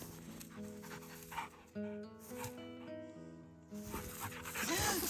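A puppy pants in quick, soft, rhythmic breaths close by, with a gentle voice and other faint sounds mixed in at a low level.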